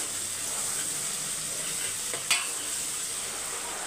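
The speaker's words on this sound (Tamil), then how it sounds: "உப்பை வந்து மிக்ஸ் பண்ணி விட்டுருங்க" Salt is stirred into a dish frying in a pan, a constant soft hiss with one brief sharp scrape of the spoon, close by and with no voices.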